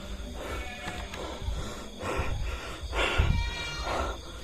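Goats in a pen give repeated bleats in bursts over a busy, noisy farmyard background, the calls fairly close and overlapping, with no talk.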